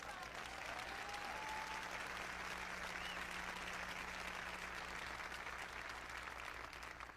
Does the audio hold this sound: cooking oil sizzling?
no